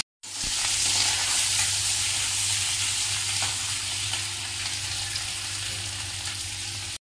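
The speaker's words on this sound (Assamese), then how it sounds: "ইয়াকে ভাজি লোৱা হৈছে" Fish frying in hot oil for a home-style fish curry, a steady close sizzle with sharp spattering crackles that holds evenly throughout with no voices.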